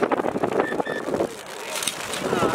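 Strong wind gusts buffet the microphone beside the Schuylkill River, a loud, roaring rumble that swells and eases throughout.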